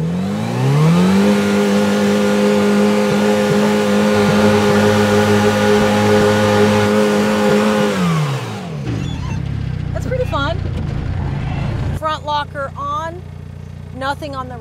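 A turbocharged Ecotec single-seat rear-steer rock crawler revs hard and holds a loud, steady engine roar for several seconds, then drops off, leaving a quieter idle with sharp squeals and rattles.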